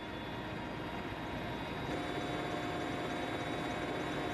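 A helicopter flies over a mountainous region, a steady, fairly faint rotor and engine rumble with no voices.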